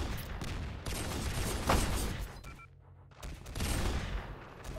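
Gunshots in a competitive shooter video game, sustained loud volleys of rapid fire that break off into a short lull before resuming, close and dense.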